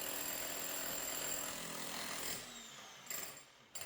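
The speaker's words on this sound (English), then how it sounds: "We need a jackhammer to start breaking them up." Jackhammer breaking up thick, solid old stone walls during a renovation: a sustained, loud rattling hammer that cuts off partway through, followed by a few short bursts and quieter gaps.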